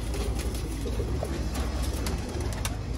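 Dubai pigeons coo softly in the background beneath a constant loud hiss and rumble of ambient noise.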